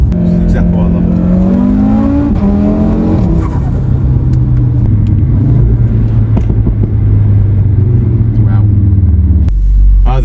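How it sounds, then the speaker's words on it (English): An Audi RS3 engine revs loudly up and down close by, then settles into a deep droning rumble that holds steady before cutting off abruptly near the end. "the first thing I love about the car is definitely the noise"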